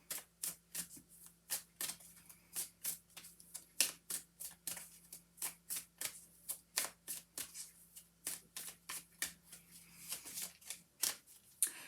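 Tarot cards being shuffled in a steady run of crisp, rapid riffling snaps for about twelve seconds, close and clear with no talking over them.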